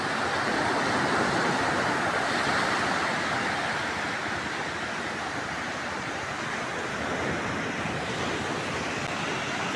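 Sea waves surging at Guhagar beach, a constant loud roar of surf close by with wind noise on the microphone and no voices.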